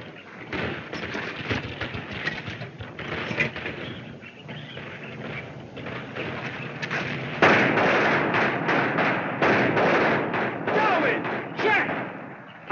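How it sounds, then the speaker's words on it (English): Firecrackers go off during a Fourth of July celebration on an old, narrow-band film soundtrack. Repeated sharp bangs and thuds fire in quick, irregular bursts, loudest in the second half, with voices mixed in. "I've told you to stop shooting those firecrackers."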